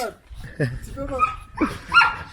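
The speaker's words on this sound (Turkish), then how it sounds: "buradaki en uysal köpek Rick ya" A dog barks and whimpers in a garden in short, uneven bursts, mixed with people talking and laughing nearby.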